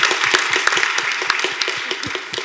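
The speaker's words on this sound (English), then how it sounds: "let's give her a round of applause" An audience at an award event claps in applause, a moderate scattered patter of hands with distinct individual claps throughout, fairly close and without speech.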